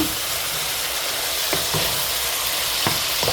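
Chicken curry stirred as it fries in oil, a loud, continuous sizzle with a few brief scraping strokes of the spoon, close up and with no talk.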